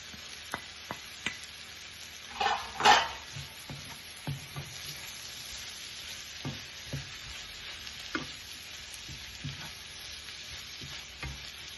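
Browned vegetables and spinach sautéing in a pan, a steady soft sizzle with intermittent clacks and scrapes of a utensil stirring, one louder clatter early on, no voices.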